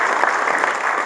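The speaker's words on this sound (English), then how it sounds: "the man requires a round of applause." Audience applause for a speaker at a Rathnaiah M Prakash event, a dense, steady burst of many hands clapping close and loud throughout, with no talking over it.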